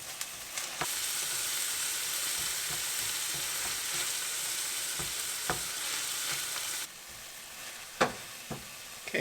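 Tomatoes frying in a pan produce a steady, close sizzle with occasional sharp clicks and taps of stirring, and the hiss drops noticeably quieter toward the end.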